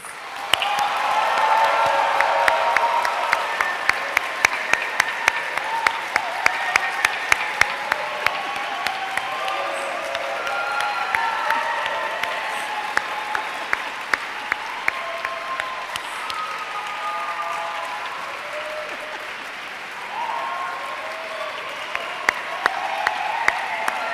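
Graduates applaud their supporters during a university graduation ceremony in Rochester Cathedral: a large, steady round of clapping that fills the space for over twenty seconds, with a murmur of crowd voices and scattered cheers underneath.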